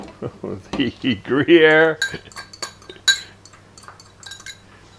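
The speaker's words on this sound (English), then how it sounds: "Now just use something like a fork so it's easy to flip it around in here." A fork mixes grated Gruyere and Emmental cheeses in a bowl, making light clinking and scraping against the dish. A voice speaks at the start, then several metallic taps follow alone.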